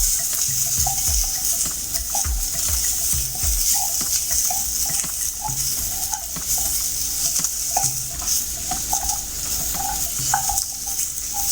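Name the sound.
semolina (rava) being stirred and roasted in oil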